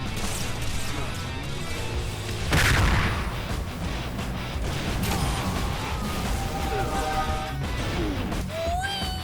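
Gunfire from a powerful weapon in the video game Halo 3, dense game combat with crashing blasts and mechanical clatter over continuous background game sound, one louder explosive hit early on.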